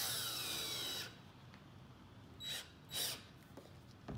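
A power drill with a hex bit whirs steadily for about a second while driving spikes into a golf shoe, then stops, followed by two short softer bursts of the bit turning.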